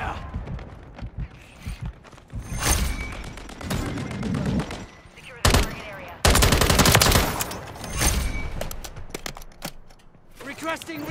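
Video game gunfire crackles through the clip in rapid automatic bursts, dense and loud at times and sparser elsewhere, with busy game noise in between and no talk.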